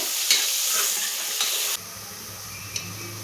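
Onions sautéing with salt in a pan while being stirred, a close sizzle with a few sharp spatula scrapes, the frying hiss dropping off partway through as a low background hum takes over.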